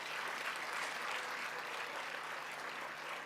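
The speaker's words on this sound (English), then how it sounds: "Can we also give him another round of applause?" Steady applause from a colloquium audience for a visiting keynote speaker, a dense even wash of clapping at moderate distance with no talk over it.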